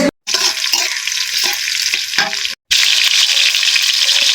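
Garlic and chili frying on a clay stove, a loud steady sizzle with scraping stir strokes throughout, broken by two brief silent gaps.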